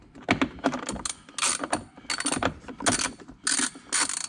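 A ratchet backing off a 10mm bolt a few turns during a dash cam install in a Jeep, close, loud bursts of rapid clicking in short strokes separated by brief pauses.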